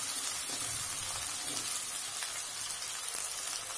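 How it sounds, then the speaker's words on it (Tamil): Onions sautéing with salt in a pan for potato kurma give a steady, soft broadband sizzle that runs evenly throughout, with no voices. "வெங்காயம் கொஞ்சம் வதங்கட்டும்"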